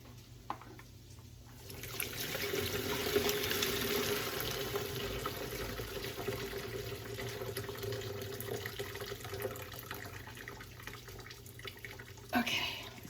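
Pasta water is poured into a kitchen sink, a continuous rushing splash that builds after a quiet start and runs steadily, ending with a brief clatter.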